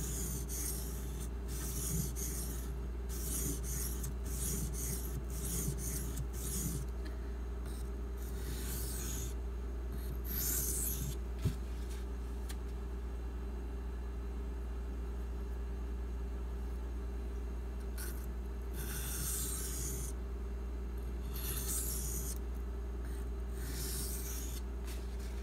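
A TC Ancient Barlow knife blade is worked on a 500 grit sharpening stone, giving intermittent bursts of gritty scraping strokes over a steady background hum. The strokes come in irregular groups with quiet gaps between them.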